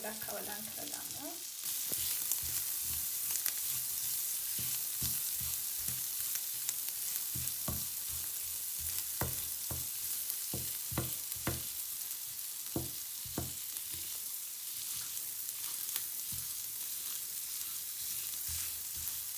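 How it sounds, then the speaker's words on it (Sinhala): Broccoli and zucchini being stirred in a frying pan, a continuous hiss of frying broken by repeated scrapes and knocks of the utensil against the pan, close and moderately quiet. "හරි දැන් අපි මේක පොඩ්ඩක් කවලම් කරගමු"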